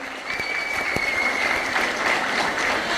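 Loud, dense applause from a party's state executive and general council meeting approving a resolution, a thick continuous roar of clapping from a large crowd with a faint steady tone running above it.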